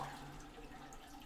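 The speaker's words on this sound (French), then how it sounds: "Tu tires la chasse d'eau." A toilet tank emptying as its flush is pulled in a home bathroom with a leaking water supply, a steady rushing wash of water filling the whole moment at low, even level with no voices.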